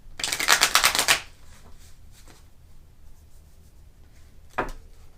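A deck of cards is shuffled in one loud, dense riffling burst lasting about a second, followed by quiet handling and a single short snap of cards near the end.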